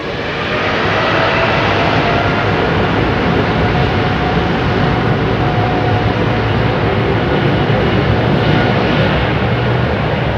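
A Boeing 747 freighter departs London Heathrow, its engines producing a loud, steady, broadband roar that holds throughout with no talk.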